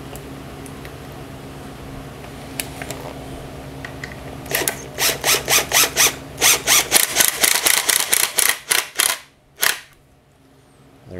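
A cordless impact driver sets screws into PVC siding replacing rotten T1-11, with a rapid run of loud, close hammering bursts in quick succession, a short pause, then one final burst.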